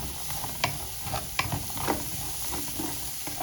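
Onion and minced garlic fry in a pan with a steady sizzle, while a spoon stirs them and scrapes the pan in a few sharp, close clicks.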